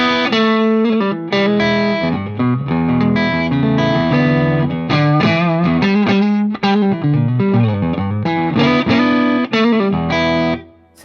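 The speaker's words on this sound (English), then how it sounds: "while we're here in the neck pickup as a single coil, I'll just put on some light gain" A PRS electric guitar on its neck pickup split to single coil, played with light gain, rings out in a run of distinct picked notes and chords with some bite, loud and close, fading at the end.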